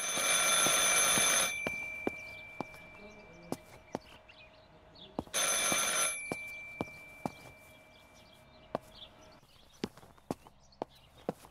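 An old telephone rings in the video game Martha is Dead, two loud bright ringing bursts separated by a pause, with sharp periodic clicks like footsteps throughout and no talk.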